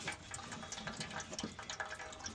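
Water trickles and drips in the engine bay of a Ford Escort MK3 pickup, a faint, steady patter of small splashes with no voices.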